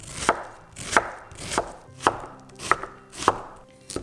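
A knife finely chops a small red onion on a cutting board in seven crisp, evenly spaced chops, close and loud, with no other sound between them.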